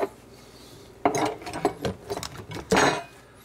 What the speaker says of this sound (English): I am going to knead it just a little bit, maybe.